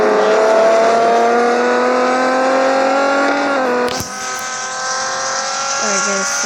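Audi hyper car racing in the Real Racing 3 video game, a loud sustained high-revving engine whine climbing in pitch, then a sudden gear shift or impact and the engine continuing on.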